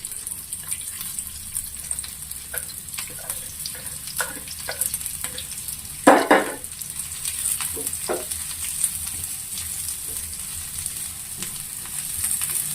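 Onions, carrot and beetroot frying in a pan, a soft steady sizzle broken by clattering stirs and one louder scrape midway, with no voices.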